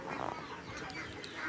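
Ducks on a farm that keeps around 400 ducks and chickens, giving faint, scattered quacks well in the distance against a soft outdoor background hum.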